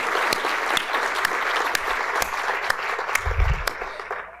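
A crowd applauds the entrepreneurs at a pitch competition and SEED Lab graduation, dense steady clapping with sharp individual claps standing out, loud and close, plus a brief low thump near the end.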